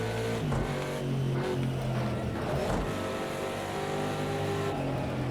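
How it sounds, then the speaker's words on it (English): A Ford Mustang GTD race car engine roars and revs past during a 12-hour race at Sonoma, rising and falling in pitch with bursts of acceleration, fairly loud and continuous. "Love the sound of this engine as well. It has a very great sound."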